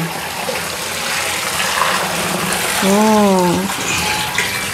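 Water gushes steadily as it is poured over soybeans to rinse them for tempeh, close and continuous, with a brief voice speaking over it.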